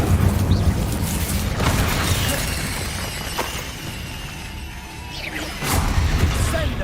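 Spell effects in Hogwarts Legacy, loud crashing bursts, whooshes and rumbling impacts piling up continuously, with brief sharp flares over dense game noise.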